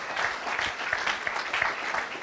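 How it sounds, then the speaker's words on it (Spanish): Church congregation applauding together at a revival service, a dense, steady wash of many hands clapping with no voices over it. "applause to our Lord."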